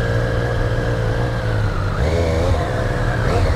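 A 2020 Triumph Street Triple RS motorcycle engine pulls steadily under acceleration, a loud, close, continuous drone that rises in pitch through a gear change, heard with no talk.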